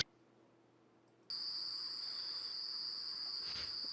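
Crickets chirp in a steady, continuous high trill that starts abruptly after a second of near silence and holds without a break until the end.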